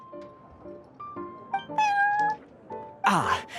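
Prince, a cat in the video game Genshin Impact, gives several short meows and a longer drawn-out mew, close and clear, with soft game background tones and no talk.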